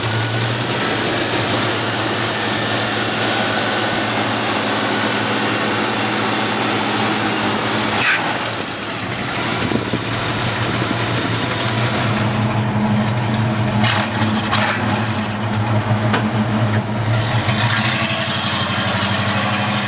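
Engine of a 1967 Ford Mustang Fastback running steadily up close, a loud continuous rumble with a brief dip around the eighth second before settling back to an even drone.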